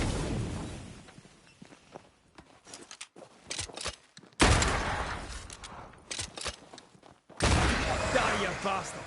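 Gunfire in the video game Banishers: Ghosts of New Eden, with loud, dense bursts of shots and impacts in a fight among ghosts, mixed with whooshes and movement and broken by short quieter gaps. Voices talk over the action.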